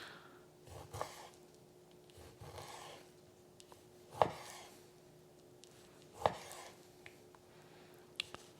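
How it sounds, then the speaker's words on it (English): A knife slices raw chicken against the grain into pieces about a quarter inch thick. Soft scraping gives way to a few sharp, isolated taps on a cutting board, spaced a couple of seconds apart, close and fairly quiet. "And now we're going to cut it against the grain."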